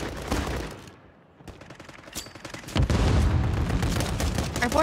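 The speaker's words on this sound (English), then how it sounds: "My gun's only shooting once." Video game gunfire, a wager match with a player's gun firing single shots: a loud burst opens, a brief lull follows, then scattered shots build into heavy, continuous close firing toward the end.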